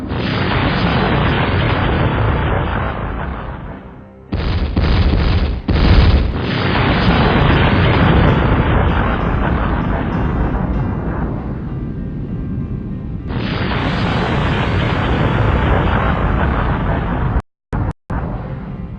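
A long, loud rumbling blast roars continuously, with sharp dropouts and renewed surges, like a series of powerful explosions booming one after another.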